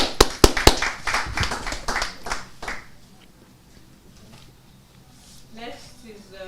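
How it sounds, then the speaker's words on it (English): A short burst of applause at a pageant press conference and inauguration, with a few sharp claps up front, fades out within three seconds, then a voice starts talking. "Let's give a round of applause."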